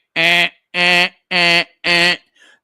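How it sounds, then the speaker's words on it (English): Four long, evenly spaced electronic alarm tones blare loudly, each about a third of a second with short gaps, followed by a faint trailing bleep. "alarm is going off"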